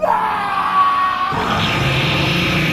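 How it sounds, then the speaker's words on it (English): A man's loud, sustained scream of terror as a horror story sound effect, a strained shriek that breaks into a rougher, noisier yell, close and dominant throughout. "He opened his mouth, and the scream ripped from his throat."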